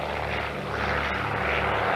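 A PBY flying boat taking off on two Wright 1820 radial engines of 1,200 horsepower at an air show, a steady droning propeller roar lasting throughout with no voices.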